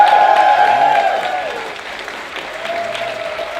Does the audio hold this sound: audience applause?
yes